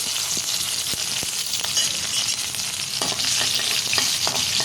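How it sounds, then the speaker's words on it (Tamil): Green chillies and garlic sizzle steadily in hot oil for a chutney, a dense continuous crackle with scattered sharp ladle scrapes and taps against the pan, close and fairly loud with no talking. "எண்ணெய் காஞ்சிருச்சு. மிளகாயை முதல்ல போட்டுக்கிறோம். பூண்டை சேர்த்துக்கிறோம்."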